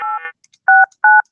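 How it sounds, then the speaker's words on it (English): A telephone number dialed over a simulated step-by-step exchange line: three short, loud, clean DTMF tone bursts, the first slightly different, evenly spaced with brief silences between. "so let's dial this number here"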